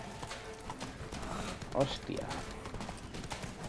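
Horse hooves clip-clop in The Witcher 3 video game, a steady trotting rhythm under a man's spoken exclamation and background game sounds.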